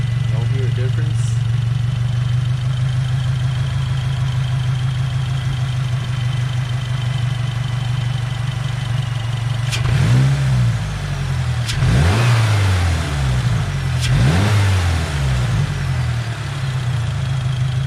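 A 2022 Subaru WRX with a K&N drop-in air filter idles loudly after a cold start, then revs sharply three times in close succession, each rev rising and falling, recorded up close.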